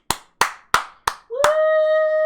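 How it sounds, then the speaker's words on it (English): Four sharp, evenly spaced hand claps ring out close and loud during a Mass Effect 3 livestream, followed by a steady electronic tone that holds to the end. "Clap for them."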